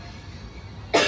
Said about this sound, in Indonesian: mendengar anaknya yang sedang batuk-batuk terus